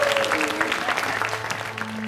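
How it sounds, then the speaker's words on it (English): School assembly audience clapping for parents who contributed to the school, a steady dense wash of many hands at close range throughout, with a faint tone and a few murmurs underneath. "So stand up while we give them a big clap"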